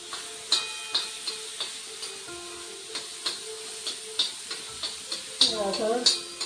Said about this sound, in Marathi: ते वाटण 2 मिनिटं परतून घेते